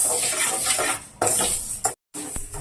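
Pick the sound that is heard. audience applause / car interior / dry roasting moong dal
dry roasting moong dal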